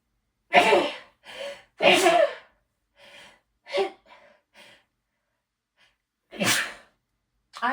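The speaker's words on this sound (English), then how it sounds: "now I have to sneeze" A person's loud sneeze bursts out, then a second strong sneeze follows, with softer breaths and sniffles between and a last sneeze near the end, all close and without other talk.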